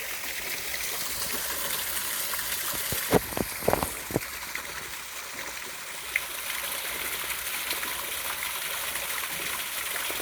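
A mountain stream flows steadily with a constant rushing hiss, a few faint knocks and splashes in the middle, no voices.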